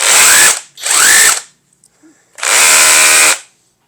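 Cordless rotary hammer, a GTM RHC18/26BL or Bosch GBH 185-LI, drilling in three loud bursts of about a second each, separated by short pauses, with no talk.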